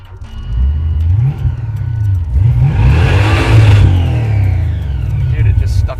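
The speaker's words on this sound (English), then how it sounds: "it just stuck the throttle open" Blown engine in a Jaguar rat rod roars with its throttle stuck open, a loud sustained high-rev wail with surging pitch for several seconds, close up, with people talking over it.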